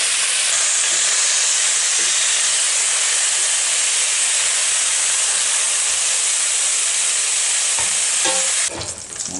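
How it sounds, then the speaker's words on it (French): Beef searing in hot oil in a pan for a daube or bourguignon, a loud, steady sizzle and hiss sustained throughout, with a brief clatter near the end. "On commence par faire revenir sa viande, bien saisie"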